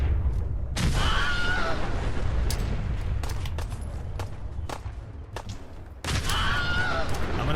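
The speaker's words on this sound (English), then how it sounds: "Take that goddamn grenade to the face" A grenade goes off in Fallout 4, opening with a loud close blast that rumbles and decays over several seconds among scattered gunfire cracks, then a second heavy explosion near the end.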